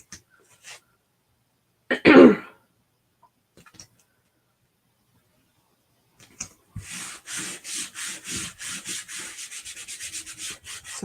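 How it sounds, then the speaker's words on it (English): Chalk Couture silk screen being burnished down onto a generic spiral notebook, a close, steady series of short rubbing strokes in a quick rhythm after a few scattered taps and a brief louder scrape. "I'm just going to burnish wherever my silk screen is."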